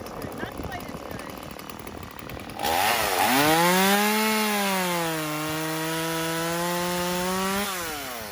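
A DeWalt Flexvolt 60V cordless chainsaw cuts through wood with a loud, steady whining drone that holds for several seconds after a brief quieter start, close to the listener.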